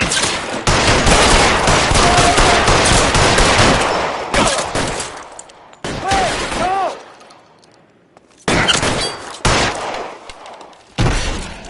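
Bursts of automatic gunfire and single gunshots in the L.A. Noire video game, loud and dense in long volleys with brief gaps, alongside game voices and a faint tonal whine.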